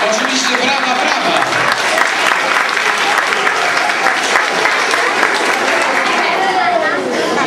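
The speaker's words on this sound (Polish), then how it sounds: "Oczywiście brawa, brawa." An audience at a children's music awards event applauds warmly, a loud, sustained burst of clapping with crowd chatter mixed in and a voice speaking over the top.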